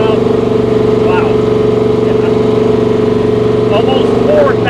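A 1000hp 1959 Rambler's engine drones loud and close on a test drive, a steady deep rumble with strong harmonic tones, while a voice talks over it.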